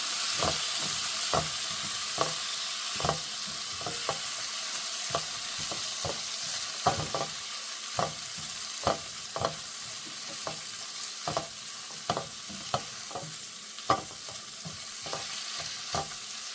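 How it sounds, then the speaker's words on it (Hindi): Broccoli and other vegetables sauté in a hot pan under a constant soft sizzle, while a spatula scrapes and taps the pan in regular close strokes about once a second. "हम इन सारे वेजिटेबल्स को थोड़ा थोड़ा हल्का हल्का सौते करेंगे"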